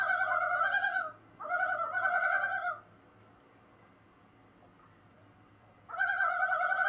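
A common loon gives its tremolo call in quavering, rapidly pulsing bursts, twice near the start and again at the end, separated by a quiet gap with no talking.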